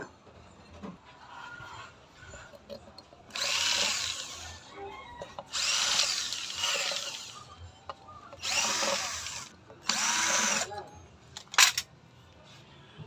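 Power drill backing allen bolts out of an e-bike motor casing, several loud whirring bursts of a few seconds each separated by quieter pauses, close by with light handling noise between.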